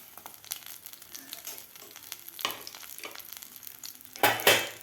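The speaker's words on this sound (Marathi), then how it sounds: "तर यामधला आपल्याला अर्धा लसूण या तेलामध्ये घालायचा आहे" Garlic goes into hot oil in a kadhai, crackling and spitting in uneven bursts, then erupting into a loud, sharp sizzle near the end.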